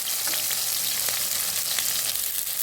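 Mustard seeds fry in a tawa with a dense, continuous sizzle and crackle, close and fairly loud, with a few small pops rising out of the hiss.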